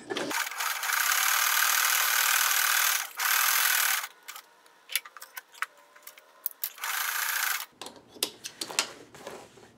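A sewing machine stitches zigzag on denim scraps in loud, steady whirring runs, stopping and starting with short gaps full of small clicks and handling noises, heard up close and alone.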